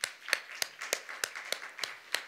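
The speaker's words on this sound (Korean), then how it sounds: "먼저 하나님께 감사의 박수 드리겠습니다" A church congregation at a Sunday evening service claps in a steady, moderately paced rhythm, eight or so sharp claps spaced evenly, with no voices over them.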